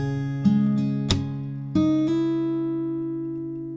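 Fingerstyle acoustic guitar playing the second half of the chorus of a song: a few plucked notes and strummed chords that ring out and slowly decay, with no voices.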